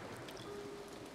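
Steady rain in the video game A Bird Story, a soft continuous patter with droplets hissing evenly throughout, heard alone without voices.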